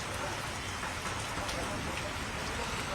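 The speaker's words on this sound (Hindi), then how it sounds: "झमाझम तेज बारिश हो रही है" Heavy rain pours down steadily over Delhi, a dense, continuous hiss of drops drumming on surfaces, loud and close throughout with no pauses.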